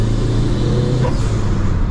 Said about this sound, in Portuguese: trocar a marcha em alto giras, você ouvir o som da turbina,